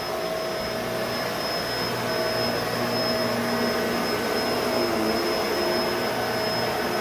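A Bissell MultiClean Allergen Lift-Off Pet vacuum runs with a loud, constant motor whoosh and a high whine held on top. The sound stays steady at close range the whole time, alone, with no voices.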